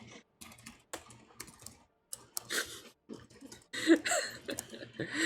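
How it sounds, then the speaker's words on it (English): Bursts of clattering keystrokes on a computer keyboard during an Overwatch match, quick irregular clicks in short runs separated by brief pauses, close and fairly crisp. "I'm busy typing and speaking."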